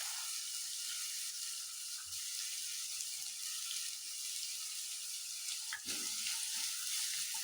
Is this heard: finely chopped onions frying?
yes